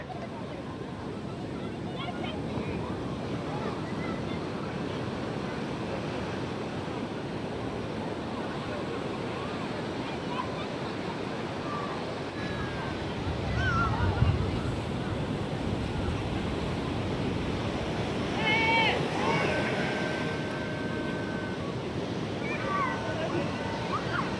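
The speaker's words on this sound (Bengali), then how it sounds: "আর এই হচ্ছে লাইট হাউস বিচের সমুদ্র সৈকত" Sea waves wash in on Lighthouse Beach at Puri on a hot afternoon, a steady broad surf roar mixed with a light breeze, heard from the shore with a few faint distant voices.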